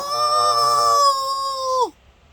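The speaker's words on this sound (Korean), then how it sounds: "닭들이 꼬꼬댁거리며 단 한 번의 날개짓으로 울타리 안으로 들어왔어" A chicken gives one loud, drawn-out crowing call up close, holding a sustained tone before dropping off abruptly into quiet.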